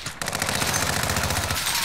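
Rapid automatic gunfire from a first-person shooter video game, a dense burst of shots fired loud and close for nearly two seconds after a brief quiet start.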